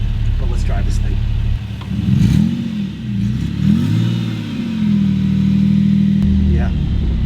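A Porsche 911 swapped with a Subaru EZ30R flat-six pulls away on its first drive, idling low, then revving up and down through a few throttle blips before settling, close and loud.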